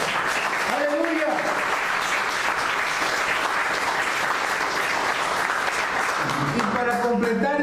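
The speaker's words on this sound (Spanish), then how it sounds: "Denle una ofrenda de palmas a Él" Church congregation applauding together in sustained, dense clapping that fills the room at steady loudness, with a voice briefly heard over it near the start and again at the end.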